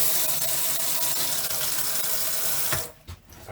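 A sink tap in an FC Sterling Elite 570 caravan runs with a loud, close, steady gush of water, then cuts off sharply near the end, leaving only a few faint drips and clicks.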